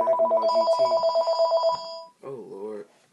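A landline house phone rings with a steady warbling electronic trill for about two seconds, fairly close, then a voice talks right after it.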